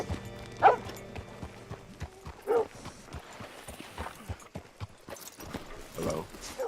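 Horse hooves clip-clop on the ground in Red Dead Redemption 2 as a horse is hitched up, a handful of distinct near steps with background ambience and brief low voices.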